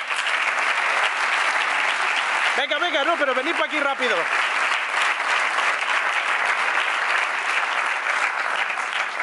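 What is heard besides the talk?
audience applause for Jess and Jorge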